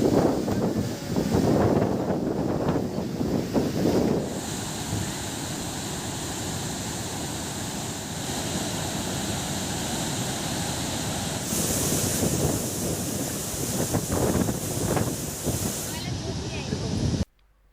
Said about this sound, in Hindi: पैनगंगा नदी से बने सहस्त्रकुंड की तस्वीरें सामने आई हैं और नांदेड़ और यवतमाल जिले की सीमा पर स्थित ये झरना